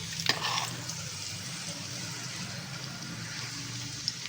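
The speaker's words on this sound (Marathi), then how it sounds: "तेल आता गरम झालं आहे, आपण याच्यामध्ये थोडीशी लसूण टाकून घेऊ।" Finely chopped garlic cloves drop into hot oil, giving a brief clatter followed by a soft, steady sizzle and faint stirring close by; the frying stays fairly quiet throughout with no talking.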